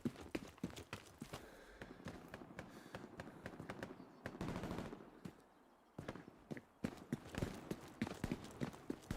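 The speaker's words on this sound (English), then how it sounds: "That sounded like a Garand." Distant, faint gunfire from M1 Garand rifles in the World War II shooter game Hell Let Loose crackles in irregular bursts of sharp reports, interspersed with footsteps and battlefield clatter.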